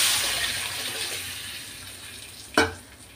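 Tomato rasam pours into a hot pan of mustard seed and asafoetida tempering with a hissing sizzle that tapers off, followed by a sharp splash near the end.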